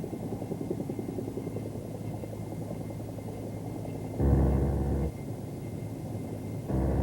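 A Bell AH-1 Cobra attack helicopter flies past with a steady rotor thrum and engine drone, and the sound swells louder in two brief surges.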